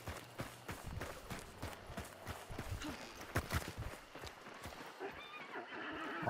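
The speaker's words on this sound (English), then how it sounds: "also a live horse that's gonna alert them" In the video game Hunt: Showdown, a horse is heard from a distance, giving a run of sharp hoof clip-clops with a whinny mixed in. The sound is fairly quiet and comes with no talk over it.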